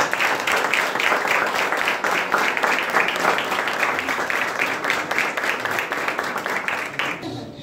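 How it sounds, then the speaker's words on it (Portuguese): Congregation applauding at a church baptism service, dense sustained clapping from many hands that stays loud throughout and cuts off abruptly at the end. "Vamos aplaudir a Jesus?"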